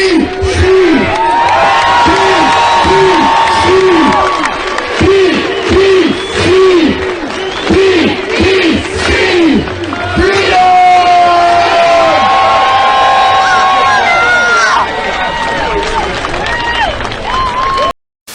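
A large crowd at a People's Party of Canada rally awaits leader Maxime Bernier, whooping and cheering continuously with rhythmic chanting pulses, loud and close, with voices mixed in.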